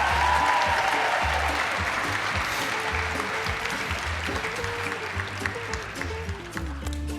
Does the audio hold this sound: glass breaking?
no